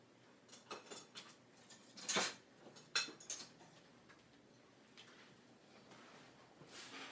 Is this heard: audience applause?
no